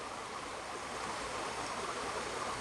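A shallow river flows steadily, making a constant, even rush of water close by with no voices.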